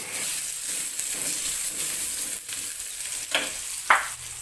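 Chili and garlic frying in hot oil, a steady close sizzle with a few sharper scrapes of stirring toward the end, no voices.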